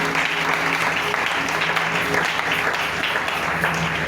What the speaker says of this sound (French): On va acclamer pour la voix du Seigneur.